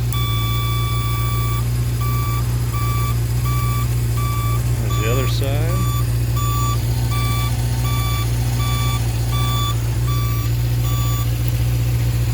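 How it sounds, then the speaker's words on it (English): A 1976 Honda CB750K motorcycle's turn signal buzzer beeps in a steady on-off rhythm over the running, idling engine, with a brief spoken remark partway through. "still got the buzzer still works on your signals"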